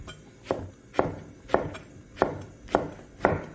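A knife cuts through a fresh garden eggplant on a board, six sharp, evenly spaced chops about two-thirds of a second apart, close and crisp against quiet.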